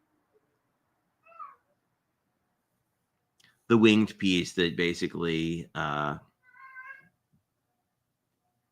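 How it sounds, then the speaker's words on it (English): A cat meows faintly in two brief calls, one before and one after a stretch of nearby talking, each short and thin against an otherwise silent room. "a cat meowing at you."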